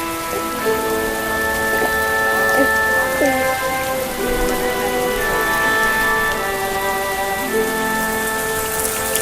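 Steady, dense rain falls without a break, a loud continuous hiss of drops striking surfaces, with sustained tonal background sounds running beneath it.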